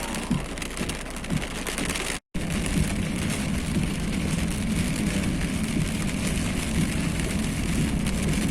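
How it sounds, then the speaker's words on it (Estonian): Hail mixed with heavy rain pelts down during a June thunderstorm in central and southern Estonia, a dense, steady, loud clatter that runs the whole time apart from one brief dropout. "Ja oli ka rahe see."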